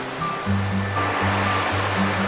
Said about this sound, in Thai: อลังการมากเลยอะข้างล่างมี มีน้ำตกไหลลงไปด้วยอะโคตรเจ๋ง